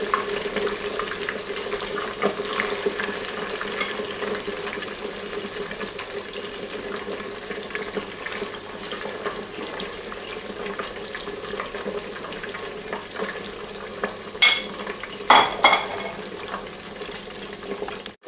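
Steady crackling sizzle of tempura-battered pork loin deep frying in a deep pan of oil, continuous and fairly close, with a few brief clinks near the end.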